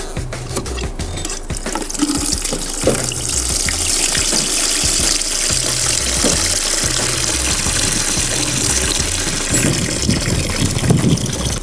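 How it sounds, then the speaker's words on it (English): Dirty water pours steadily out of a seat-cleaning machine, a continuous broadband gush with a low pump-like rumble underneath, close and fairly loud for about twelve seconds with no talking. "let's have a look at the dirty water coming out of the machine"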